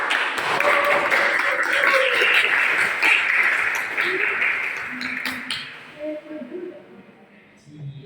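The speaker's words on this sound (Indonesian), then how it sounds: "Oke, tepuk tangan." A classroom of students breaks into steady applause that trails off into scattered claps, with voices and light chatter underneath.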